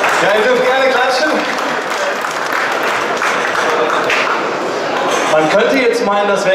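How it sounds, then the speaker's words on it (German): Audience clapping at the Hannover Messe trade fair, a dense, steady round of applause from a nearby crowd lasting several seconds, with an announcer's voice talking over it throughout. "Ja, ihr dürft gerne klatschen"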